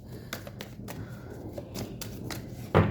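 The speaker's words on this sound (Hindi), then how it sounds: "One more shuffle, then I am done." Tarot cards being shuffled by hand, giving a steady riffling rustle with a few sharper snaps and a louder flutter near the end.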